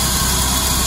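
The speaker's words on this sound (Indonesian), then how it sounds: "Dan inilah kondisi suara mesin ketika dihidupkan." A 1993 BMW 318i E36 with the M40 engine and automatic transmission idles just after starting, a loud, close, steady mechanical drone with even low pulsing.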